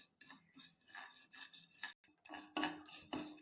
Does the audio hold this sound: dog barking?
no